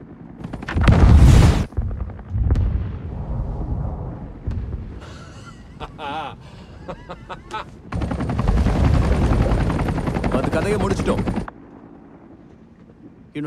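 Helicopter flying low over the sea in a monster shark action film scene, loud rotor roar swelling and fading in bursts, mixed with explosive impacts and dramatic movie effects.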